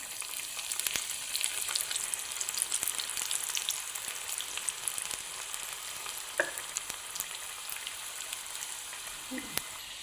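Hot oil with garlic frying sizzles and pops continuously at moderate volume, a fine crackling hiss with a couple of soft clinks.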